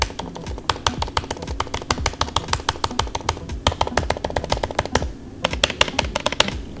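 Rapid, steady typing on a 15-inch MacBook Pro laptop keyboard, crisp clicky keystrokes in quick bursts with a brief pause, close up and without talk.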